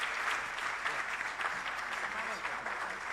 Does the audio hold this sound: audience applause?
yes